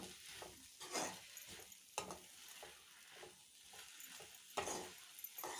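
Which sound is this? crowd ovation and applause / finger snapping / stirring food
stirring food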